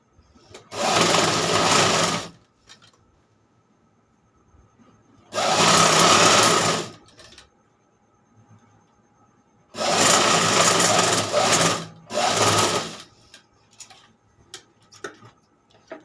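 Sewing machine stitching fabric in four separate runs, each a loud rapid whirring rattle lasting one to two seconds, with quiet pauses and small handling clicks between bursts.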